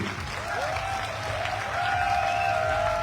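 A crowd at a live event in Kota, Rajasthan claps steadily, the applause swelling slightly midway, with a faint whistle-like tone riding over the clapping.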